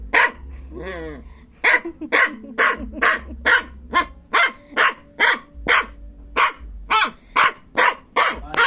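A dog barks repeatedly in a steady series of loud, sharp barks close by, with a brief whine or yip near the start.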